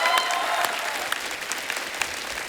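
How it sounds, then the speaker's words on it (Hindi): A television studio audience breaks into loud, sustained applause at a comedy talk show, a dense wash of clapping with scattered sharper claps that holds steady throughout, without talk. "एक बार जोरदार तालियां।"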